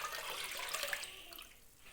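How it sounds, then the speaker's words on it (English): Cooked rice water poured into a container of plain water for garden use, a brief close splashing, gurgling pour that tapers off, with no talk. "The normal water, pour in the cooked water."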